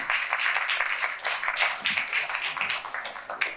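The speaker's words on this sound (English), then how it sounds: "Big round of applause for our speakers." Conference audience applause in a hotel ballroom, a moderate, somewhat uneven patter of hand claps that swells and dips over a few seconds without speech.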